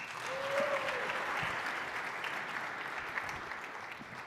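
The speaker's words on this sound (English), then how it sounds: "So give him a round of applause." An audience at a talk on generative AI for startups and small businesses claps in a steady round of applause, moderately loud and sustained, with no talking.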